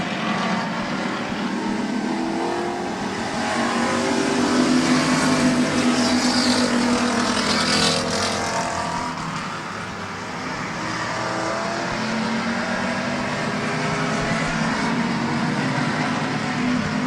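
Race cars at Midvale Speedway roar around the track side by side, a dense, sustained engine drone with rising and falling passes heard from the stands.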